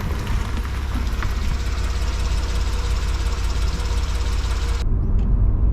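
A Porsche 911 (991) running after a 40,000-mile spark plug service, giving a dense, throaty rumble that holds steady for several seconds and then swells louder near the end. No clear exhaust pops stand out, and no one speaks.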